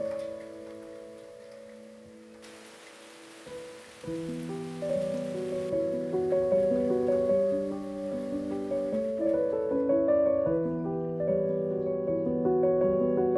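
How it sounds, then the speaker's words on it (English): Rain falls against a window in a soft, steady patter that runs quietly beneath gentle melodic music with slowly changing notes. "I stood there, watching raindrops roll down the window"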